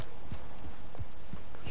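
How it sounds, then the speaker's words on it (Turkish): Horse hooves clip-clopping in a steady gait during a ride in the video game Red Dead Online, a regular series of five or six soft low thuds over constant background ambience, with no talking. "Ya atın üstünde şöyle gidiyorum."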